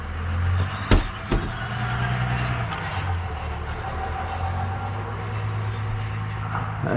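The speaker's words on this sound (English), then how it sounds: "That's this stupid truck." A pickup truck's engine idles nearby in a humid outdoor setting, a steady low rumble that runs throughout, broken early by two sharp knocks.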